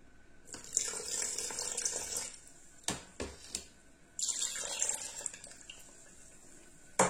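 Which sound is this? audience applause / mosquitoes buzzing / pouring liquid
pouring liquid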